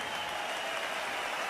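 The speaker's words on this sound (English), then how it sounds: "A round of applause for champion and challenger." Boxing crowd applauding the champion and challenger after a heavyweight title bout in Zurich, a steady broad wash of clapping that holds evenly across the whole moment without a break.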